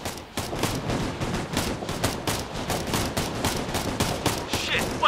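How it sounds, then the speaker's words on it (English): Heavy gunfire in the military shooter OFP Red River in Tajikistan, a dense fusillade of rapid overlapping shots and machine-gun bursts, loud and continuous throughout. "We're taking heavy fire!"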